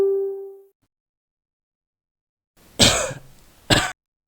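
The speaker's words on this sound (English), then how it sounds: "coughing sound." Two close, dry coughs from one person, the second shorter, set apart by a brief pause after a quiet stretch that opens with a faint fading tone.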